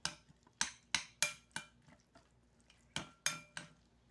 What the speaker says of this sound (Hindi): अब इसको मैं मिक्स करती हूँ।